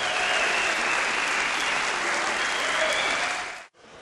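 A crowd in Hamburg at a Counter-Strike 1.6 esports event applauds to welcome team Mousesports, loud, dense and even clapping that cuts off abruptly near the end.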